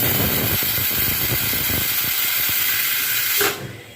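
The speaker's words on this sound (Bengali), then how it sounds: "গ্যাসটা বাড়ানো মাত্রই আর 1টা সিটি পড়ে যাবে" A kitchen pressure cooker on a gas stove lets out a loud, continuous steam whistle with a hissing rush that holds steady, then cuts off sharply near the end and leaves a fading hiss.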